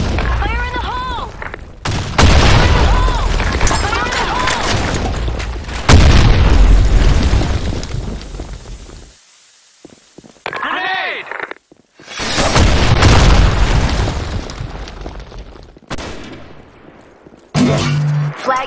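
Grenades explode in a Counter-Strike style shooter on a sand storm map: repeated loud, booming blasts and bursts of gunfire, mixed with in-game radio voice callouts over several seconds.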